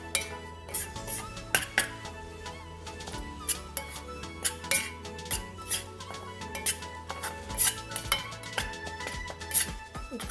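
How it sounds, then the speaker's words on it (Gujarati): A pan of fine wheat flour being roasted and stirred in desi ghee for sukhadi. A spoon scrapes and clinks against the pan in quick, irregular taps, with tonal background music underneath. "એક વાડકી ઘઉંનો લોટ છે ઝીણો, અને ઘીમાં તાપી શેકવાનું છે."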